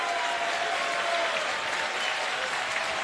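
A wrestling event crowd applauds during a tag team title match, a dense, steady wash of clapping that stays even and fairly distant throughout.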